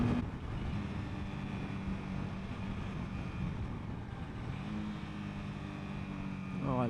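A 2021 Honda CBR 300R motorcycle engine drones steadily while riding, a close, continuous mid-pitched hum mixed with wind rush, dipping briefly as the revs change near the end.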